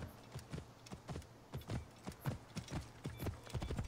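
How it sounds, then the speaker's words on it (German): Many horses clip-clop in a steady overlapping rhythm of hooves in Assassin's Creed Origins, set in ancient Egypt, the hoofbeats fairly close and continuous with no talking. "Sehr viele Pferde."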